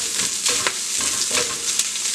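Shallots, coconut and curry leaves frying in hot oil over a low flame, a continuous close sizzle with light crackles and occasional stirring scrapes, no talking.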